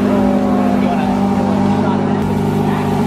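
Porsche 918 hybrid supercar, its gas engine running loud and close with a steady low droning hum throughout.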